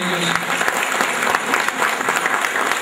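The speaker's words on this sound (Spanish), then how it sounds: "Vamos a darles un fuerte aplauso de" A church congregation at a Catholic Mass breaks into sustained applause, a dense, even wash of many hands clapping indoors at close range, with faint crowd murmur beneath it.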